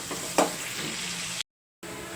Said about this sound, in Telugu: మనం వేసుకున్న పచ్చిమిర్చి టమాటా కొంచెం దోరగా ఫ్రై అయ్యే వరకు ఫ్రై చేసుకుందాం